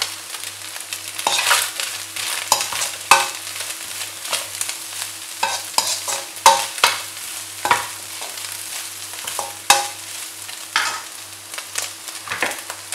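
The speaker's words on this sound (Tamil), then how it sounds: "இப்போ இதில் வறுத்த சிக்கன் ஆட் பண்ணுறேன்." Fried chicken pieces tossed with capsicum in a roadside wok for chicken fried rice, with steady sizzling under rapid metallic scraping and clanging of a ladle, repeated strokes close and loud.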